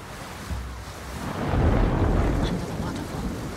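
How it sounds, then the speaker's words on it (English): A waterfall in Ghost of Tsushima rushes in a steady, broad roar of falling water, swelling louder in the middle, close and continuous. "Ah, through the waterfall."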